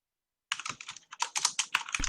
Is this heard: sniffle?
no